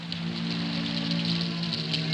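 Steady rain falls on a hard surface, an even continuous hiss of drops with a faint low hum underneath, no voices.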